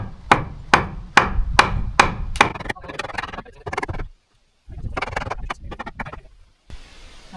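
Hammer strikes drive a board into place during off-grid cabin bunker work: a quick series of crisp, close wooden knocks, then a short silence and a second looser burst of taps and clatter.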